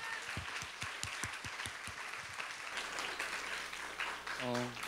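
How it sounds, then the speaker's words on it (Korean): A school community audience claps to welcome a student to the stage at an assembly: steady, dense applause with sharp individual claps, ending under a brief, tone-like sound. "우리 큰 박수로 이 친구를 맞이했으면 좋겠습니다"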